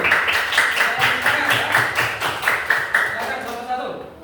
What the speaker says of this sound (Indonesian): sekarang beri tepuk tangan dulu untuk kelompok 1